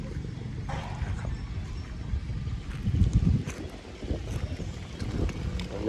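Cool evening wind blows outdoors at a shrine festival in Rasi Salai, Thailand, in a continuous low rumbling rush with gusts that buffet the microphone, louder around the middle, with no clear talk.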